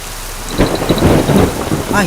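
A short burst of thunder crackles and rumbles over steady heavy rain, close and loud.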